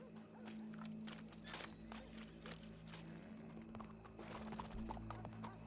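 Hooves of a horse in the video game Red Dead Redemption 2, quick clip-clop strikes in an uneven gait against a low steady hum, fairly close and clear with no talking.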